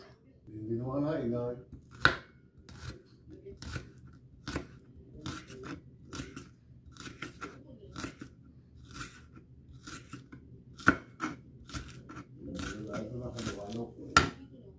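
Spring onion stalks are chopped on a board with a steady run of crisp, close knife strikes, and a voice talks briefly at the start and near the end.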